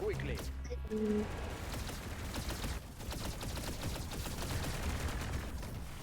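Rapid gunfire from the Roblox shooting game Arsenal, dense bursts of shots running continuously and fairly loud, with game music tones at the start and a player's voice talking over it.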